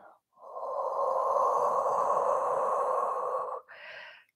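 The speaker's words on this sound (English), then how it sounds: "One more deep breath in. And exhale" A long, steady breath during a Pilates mat session, with a brief intake followed by a sustained airy exhale of several seconds, close and fairly loud, and a short voiced sound at the end.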